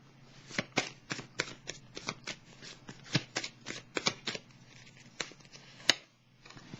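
Tarot cards shuffled by hand, a series of sharp riffling snaps in an irregular rhythm, close and clear, ending on one louder slap.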